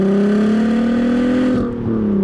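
A naturally aspirated VW Golf Mk5 R32 hot hatch accelerating hard, its engine note loud and close, climbing steadily in pitch before a brief dip as it shifts and pulls again.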